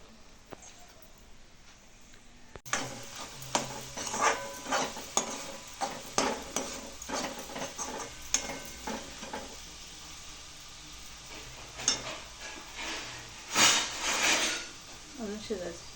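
Ghevda beans and eggs cooking together in a pan for bhurji, with sizzling and repeated scraping stirs of a spatula, brief bursts over a soft frying hiss, and a few clinks of utensils.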